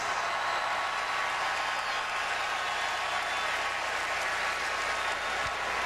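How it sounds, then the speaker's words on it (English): Broad, steady applause from a large arena crowd for the 2005 NBA All-Stars fills the whole stretch, distant and washy, with no break or single voice standing out. "let's have one more round of applause for all the 2005 NBA"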